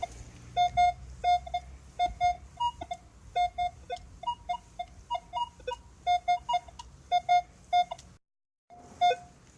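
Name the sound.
metal detector tone on buried coin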